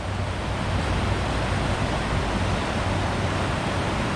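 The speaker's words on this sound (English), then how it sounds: "they've got the floodgates open" Broad steady roar of river water pouring through open floodgates below the Gaston dam near a boat ramp on the Roanoke River, a continuous loud rush with low rumble and no talk.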